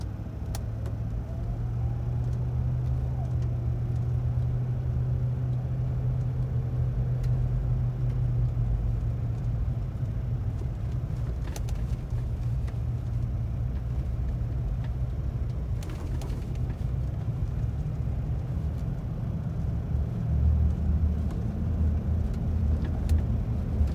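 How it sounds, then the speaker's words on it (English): G4 vehicle driving on a gravel unimproved road, a steady low engine rumble and tire noise from inside, with scattered crunches and knocks throughout. "This is a gravel, unimproved road."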